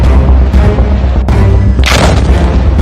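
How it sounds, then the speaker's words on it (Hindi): A heavy boom from a blast in the Israel–Hamas war in Gaza rolls in loud and continuous, with a burst of noisy crackle partway through, likely the third in a string of explosions. "तीसरा धमाका"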